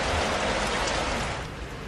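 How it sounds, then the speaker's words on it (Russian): Heavy rain pours down steadily in a dense, hissing wash, close and loud throughout, easing only slightly toward the end. "смотри, сейчас творится ливень"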